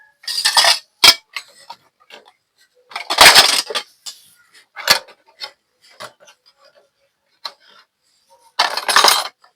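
Plates and dishes clink and clatter as they are tossed, in several sharp, bright bursts with short gaps between them, close and loud, with no one talking.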